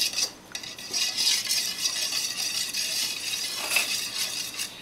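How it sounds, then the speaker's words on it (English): A utensil stirs pumpkin muffin batter in a mixing bowl, with a steady scraping swish and light clinks against the bowl's side. The sound is close and continuous, with no talking. "Mix that together, please."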